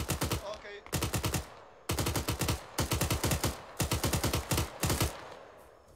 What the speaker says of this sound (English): And now they're taking fire again.